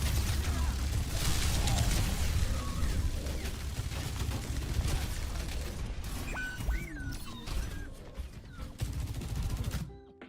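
Bastion's rapid sustained gunfire in the Overwatch video game rattles in a dense, loud, continuous burst. Mechanical game effects and brief tonal sounds cut in near the end before the firing abruptly stops.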